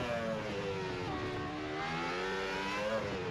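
F1 car engine in a sim racing game at Baku: a high, buzzing whine climbs steadily in pitch, then briefly dips as the gear upshifts and rises again.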